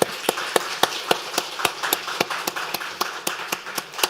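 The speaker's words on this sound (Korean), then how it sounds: "우리 하나님께 영광의 박수" A church congregation claps in unison at a Christmas Sunday service, a steady, evenly spaced beat of sharp claps that continues without voices.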